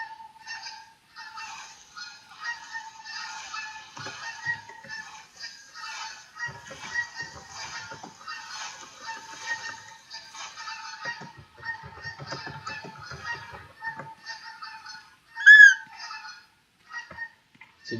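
Geese honk repeatedly in a hunting game, a dense flock chorus of overlapping calls running throughout, with one louder, closer honk near the end.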